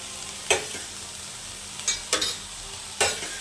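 Vegetables and tomato stir-fry in a pan for fried rice, with a soft steady sizzle under four sharp scraping stirs spaced irregularly, close and fairly quiet, no voices.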